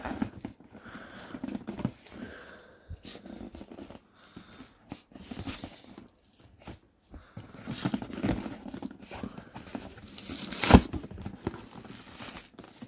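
A Secret Lair Fetchland cardboard box being torn apart by hand, with irregular crinkling, ripping and tapping sounds close up, varied bursts with short pauses and one sharp crack near the end.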